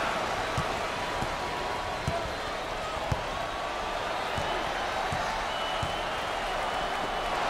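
Steady, loud arena crowd roar from a USC vs UCLA game in NCAA Basketball 10, a continuous wash of cheering with occasional sharp ball bounces and thumps cutting through.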